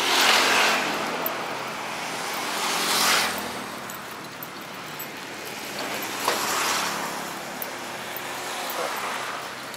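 Cars pass on a city street near shopping centres in Penang while someone waits at a traffic light, with several vehicles swelling by close and fading, under steady roadway noise.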